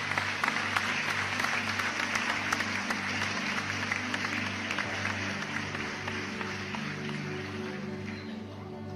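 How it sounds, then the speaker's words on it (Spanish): Congregational applause at a preacher's service in a religious gathering, a thick, even wash of clapping lasting about nine seconds over a steady low musical drone, with no speech over it. "Un aplauso a Dios."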